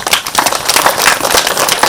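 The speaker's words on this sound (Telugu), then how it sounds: "సరే గట్టిగా క్లాప్ చేద్దాం." A group claps loudly and steadily at a spiritual gathering, a dense continuous patter of many hands close by.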